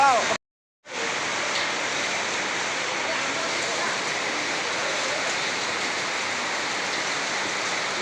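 Heavy rain pours steadily during a trip to Barabati Stadium in Cuttack, a dense even hiss that cuts out briefly near the start and then runs loud and unbroken for the rest.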